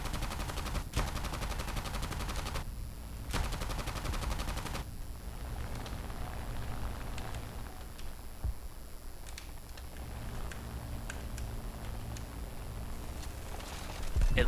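Ki-61 fighter machine guns firing in an arcade-mode flight combat game: bursts of rapid gunfire over a constant engine drone, one longer burst early on and then scattered shorter volleys.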